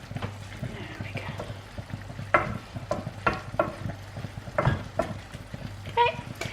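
Spinach mixture for a stuffed butternut squash cooks in a pan, giving a low steady sizzle with several sharper scraping stirs of a utensil against the pan at irregular intervals.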